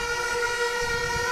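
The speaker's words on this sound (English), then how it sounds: "You can hear the air horns going." A steady, blaring air horn at a school sports match holds one loud, sustained tone throughout, unbroken and close.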